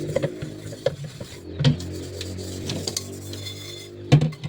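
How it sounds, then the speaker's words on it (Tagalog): A rice cooking pot is washed by hand, with close scraping, rubbing and clanking of metal, and a few louder knocks and splashy clatters spaced irregularly. "Una, hugasan ang kaldero."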